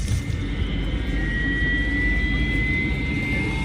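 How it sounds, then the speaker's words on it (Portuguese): Steady jet engine roar with a high whine as an airliner's engines warm up before departure from North Korea, constant and fairly loud, no voices. "Eles já estão aquecendo os motores."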